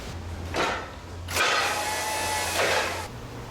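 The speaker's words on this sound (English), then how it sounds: "This is a World War II bread dough mixer off of a Navy cruiser. And we're mixing up 400 pounds of sculpture clay in here" A World War II Navy cruiser bread dough mixer churns 400 pounds of sculpture clay, a steady mechanical whir with a low hum and bursts of broadband grinding that swell and fade, loud and close.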